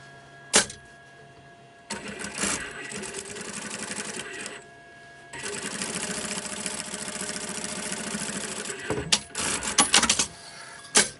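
A sewing machine stitches the lining of a quilted ballerina bag with a zip and gusset, running in two close, steady whirring bursts separated by short pauses, with a few clicks and knocks of handling at the start and end.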